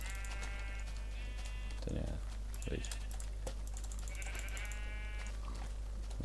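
A sheep bleats briefly in the blocky sandbox game Minecraft, heard over a constant low hum and clicky keyboard typing while a person speaks briefly.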